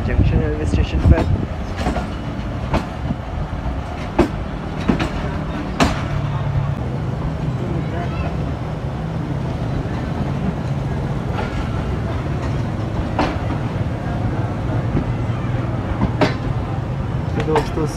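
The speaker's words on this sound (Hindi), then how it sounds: "दोस्तों स्लोली निकल रहे हैं हम लोग Shorkot cantt junction railway station से" Millat Express pulling slowly out of Shorkot Cantt Junction, a low rumbling rolling hum with scattered sharp clanks and clicks from the wagons, while someone talks over it throughout.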